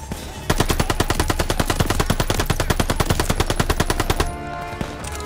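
Machine gun fire in Call of Duty Vanguard, a loud, close, rapid and even burst of automatic shots lasting about four seconds, then stopping abruptly into lower battle ambience.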